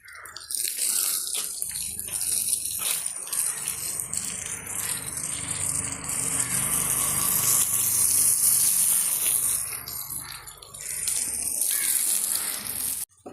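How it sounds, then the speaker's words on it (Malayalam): Water sprays steadily onto fresh construction work, a continuous hissing gush with a rattling edge that swells and dips briefly, close and fairly loud with no talk. "ഈ പണി നടക്കുന്നിടത്താണ് നമ്മൾ വെള്ളം നനയ്ക്കുന്നത് കേട്ടോ."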